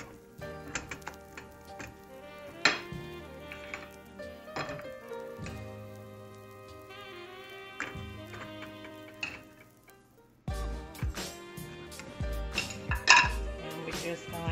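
Baby back ribs are dropped into a pot of sauce and stirred, giving a series of knocks, clinks and scraping taps of utensil against cookware, irregular and close, with a louder cluster of clatter near the end.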